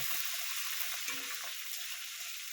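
Prawns with watermelon rind sizzle softly in a pan, a faint, even hiss with light stirring scrapes underneath.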